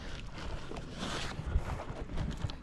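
Motor of a small fishing boat running on open water during ultralight casting, a continuous low drone mixed with wind buffeting the microphone and a few dull knocks, no speech.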